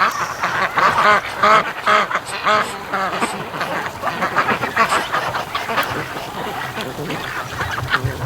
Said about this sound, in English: I would have never known that the ducks would go forage through the snow to eat weed seeds